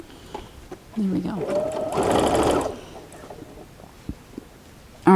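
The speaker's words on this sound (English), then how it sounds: "And then we'll head over here to the sewing machine." A sewing machine runs in one short burst of rapid stitching as it sews down the corner of a quilt binding on cuddle or minky fabric, with a person talking before and after.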